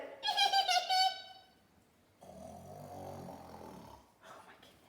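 A woman reading a children's picture book aloud makes a high, squeaky, wavering noise, then a long low nasal rasping snore imitation, followed by a short breathy sound, with no real animal present.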